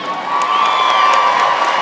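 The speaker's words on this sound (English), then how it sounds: "give them an applause" Crowd at a gaming event cheering and applauding young child gamers, a dense, loud wash of cheers and clapping with a sustained tonal whine over it, lasting under two seconds.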